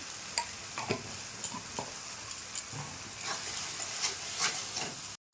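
Spices, including turmeric, fry in a pan for a Bengali banana flower (mochar ghonto) curry. A steady, soft sizzle carries light tapping stirs, then drops out briefly at the very end.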